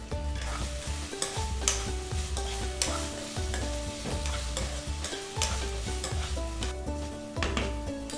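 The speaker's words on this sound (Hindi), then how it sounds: "इसलिए पहले आलू भून लेंगे, मॉइस्चर ख़त्म करेंगे" Potatoes fry in a pan with cumin for jeera aloo bhindi, giving a steady close sizzle broken by repeated scraping stirs through the whole stretch.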